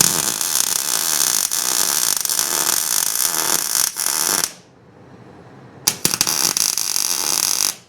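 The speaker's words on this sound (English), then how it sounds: "Maybe if I just weld it to this hood hinge." Electric welding on a hood hinge of a 1941 Chevy rat rod project, a loud steady crackling buzz that runs for several seconds, breaks off into near silence, then resumes in a short crackling burst.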